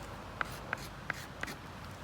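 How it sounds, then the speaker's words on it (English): A lump of graphite rock is drawn across a surface like a pencil, making four short, evenly spaced scratchy strokes that are close and quiet over a faint background hiss. "The rock writes. I mean, all day long. It's like a pencil."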